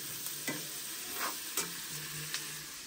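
Rajma frying in plenty of oil in a village kitchen sizzles steadily, with occasional scrapes and stirring knocks of a spoon against the pan.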